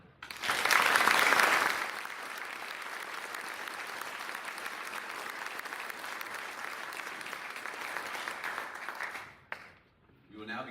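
Applause from the audience at an Air Force ROTC commissioning ceremony, loudest at the start and then holding steady for several seconds before dying away as a speaker resumes.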